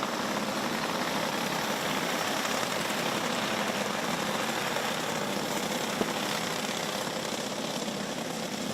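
A pack of six novice rookie-class go-karts races after a restart at Forks Karting Speedway, their engines blending into a steady, buzzing drone heard from a distance with no talk.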